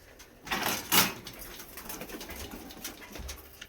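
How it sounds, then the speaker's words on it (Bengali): A pair of domestic pigeons coo close by. A few soft, low, rolling calls stand out over faint rustling and background murmur. "তো পায়রাগুলো আপনাদের একবার দেখিয়ে দিচ্ছি"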